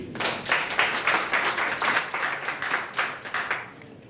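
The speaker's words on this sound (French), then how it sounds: "Je vous demande de les applaudir." Audience at an agronomy speaking competition semi-final applauding the professors, a moderately distant crowd clapping with fast, even rhythm that fades toward the end.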